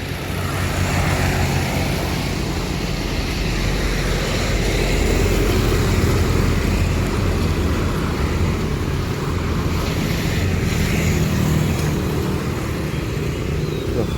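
Several new Sinar Jaya buses rumble out of the depot, a loud, steady diesel drone with low engine roar and road noise sustained throughout, close by, with no talk.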